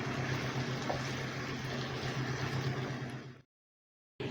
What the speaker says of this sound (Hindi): अब इसमें हम पानी शामिल करेंगे 2 गिलास करीब, ताकि गोश्त अच्छे से गल जाए